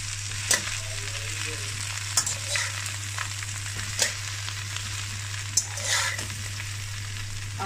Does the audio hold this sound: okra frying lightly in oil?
yes